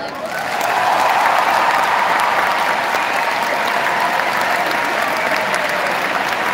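A large audience at a Godzone tour concert in Bratislava breaks into loud, sustained applause that swells within the first second and holds steady as a dense roar of clapping.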